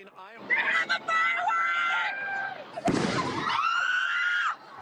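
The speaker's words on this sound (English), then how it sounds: "this firework is set off. It explodes above the encampment" A firework explodes in a sharp, loud burst above an encampment, set against continuous shouting and screaming voices from a crowd.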